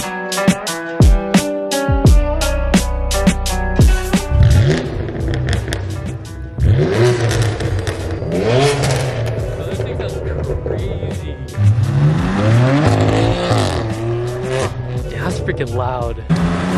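BMW F80 M3 with a new loud exhaust, engine revving hard with sharp throttle blips early on, then sustained rising and falling revs, close and loud, with voices underneath.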